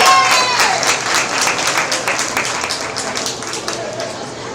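An audience at a sheep showmanship and market lamb show applauds steadily, a dense wash of clapping that fades slightly over several seconds.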